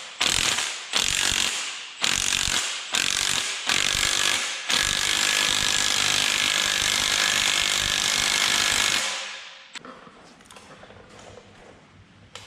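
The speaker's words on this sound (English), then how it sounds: "I'm using a 3-jaw puller to pull our pulley off our crank" A 3-jaw puller drawing the crank pulley off a Mustang GT 4.6 engine: several short bursts of a buzzing ratchet or impact tool, then a long continuous whirring run that stops, followed by faint clicks and handling noises; nearby and loud.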